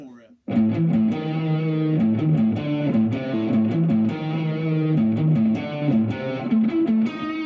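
Distorted electric guitar plays a driving riff in an underground shred metal style, loud and sustained with rhythmic picked notes and no voice over it.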